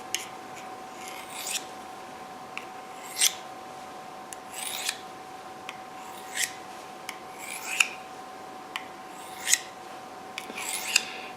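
A knife is drawn across an oiled tri stone in repeated rasping strokes, about one every second or so. The strokes are close and fairly quiet, over a faint steady hum.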